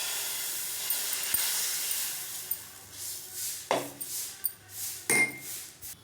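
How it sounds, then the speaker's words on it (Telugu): Wheat rava dosa batter hitting a hot pan, a steady hiss of sizzling with several sharp scraping and spreading sounds close by, no talk. "ఇప్పుడు దోశ వేసుకుందామండి."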